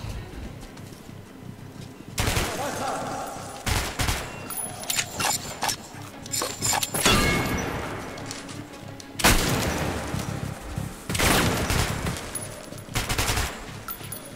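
Bursts of rapid gunfire in a shootout in Metro Last Light, loud and close, erupting in several volleys with short pauses between, amid booming impacts.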